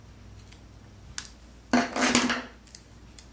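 Scissors trimming a small strip of paper for a craft project: a few light snips, then one longer, louder crisp cut, close up in a quiet room.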